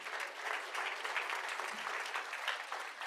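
Steady, dense audience applause at a conference award ceremony, many hands clapping continuously for about three seconds with no break and no speech over it.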